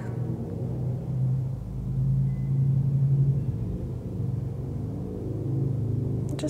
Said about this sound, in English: you can notice the sound of traffic.